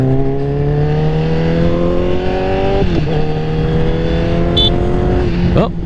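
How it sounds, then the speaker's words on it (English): A Honda CBR1000RR motorcycle roars loudly while being ridden, its engine and exhaust rising through the gears with two quick dips and recoveries as it shifts, heard up close and continuous. "I like the way that it sounds too. The exhaust makes it sound really good."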